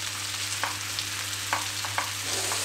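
Onion and potato frying together in a pan, a steady broadband sizzle with a few brief stirring scrapes over a constant low hum, no talking.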